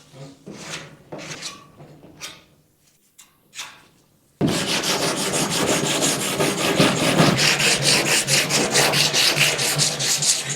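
Block sanding of bodywork on a door of a 1953 GMC truck being restored: a few scattered rubbing strokes, a pause, then continuous loud back-and-forth abrasive scraping that keeps a steady rhythm through to the end.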